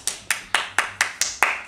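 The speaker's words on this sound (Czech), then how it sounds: "Zatleskáš mi? Když budeš chtít, tak zatleskám." One person claps seven times in an even, unhurried rhythm, each clap sharp and close, during a children's drama-club stage performance of The Little Prince, with no talk between claps.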